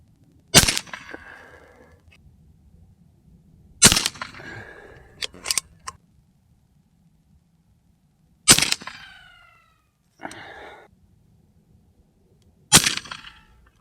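A REX-P .35 caliber PCP air pistol fires four loud, sharp cracks spaced a few seconds apart, each with a brief ringing tail, plus a few softer metallic clicks between shots.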